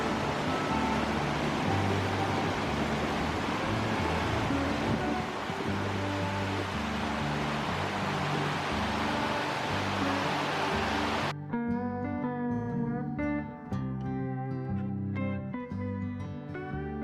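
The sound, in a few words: Tyndall Creek flowing water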